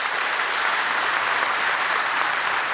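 A congregation at a Korea–US 140th diplomatic anniversary thanksgiving service claps steadily to welcome guests from America, a full, even roar of applause lasting throughout.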